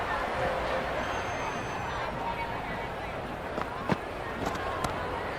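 A noisy, distant crowd roars steadily at a PSL cricket match between Multan Sultans and Peshawar Zalmi, with scattered sharp knocks and bangs breaking through the continuous stadium din.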